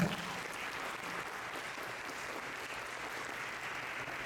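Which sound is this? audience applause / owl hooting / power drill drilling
audience applause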